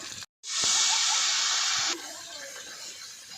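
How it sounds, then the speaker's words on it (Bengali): Turmeric-coated taro pieces hitting hot oil give a sudden loud, steady sizzling hiss that holds for over a second, then settles into a quieter, continuous frying crackle. "হলুদকে একটা একটা করে এইভাবে মাখিয়ে হালকা হালকা করে গরম তেলে ছেড়ে দিয়েছি।"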